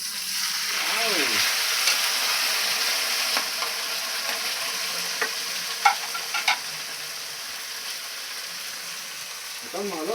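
Shrimp stir-frying in a pan with already browned ingredients: a continuous bright sizzle, close and fairly loud, broken by a few sharp scraping stir strokes and brief voice sounds over the top.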